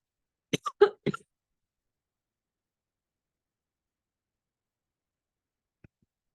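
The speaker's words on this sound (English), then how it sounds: "now I'm coughing" A short burst of three or four close coughs, then near silence with one faint click at the end.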